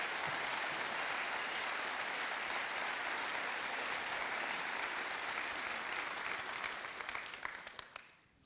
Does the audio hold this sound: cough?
no